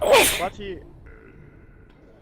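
A single sharp sneeze bursts out close by, right at the start, then fades into quiet room tone. A voice speaks briefly.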